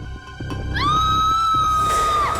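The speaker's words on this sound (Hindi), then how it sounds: "बच्चे की चीखने की आवाज।" A child in an old haveli lets out a shrill, sustained scream that starts suddenly and rises sharply, holds loud for over a second and echoes slightly through the empty rooms.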